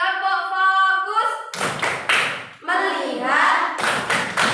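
A classroom of students chants and does a rhythmic focus clap together during an Indonesian language lesson, sharp group claps and thumps interleaved with voices chanting in unison.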